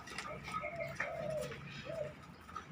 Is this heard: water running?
no